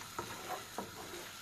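Four eggs frying in leftover homemade tomato sauce in a pan, a steady faint sizzle with a couple of soft stirring or scraping touches, no talking.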